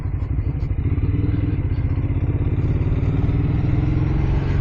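A Ducati motorcycle being ridden along a city boulevard in Raleigh, its engine a loud, steady, close rumble with rapid pulsing throughout, no voices over it.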